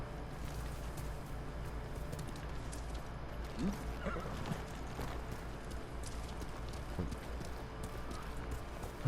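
Horse hooves clip-clop in Ghost of Tsushima as a horse is called over, faint scattered hoofbeats over a steady low ambient bed of wind and game atmosphere.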